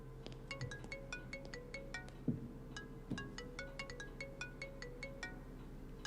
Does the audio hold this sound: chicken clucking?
no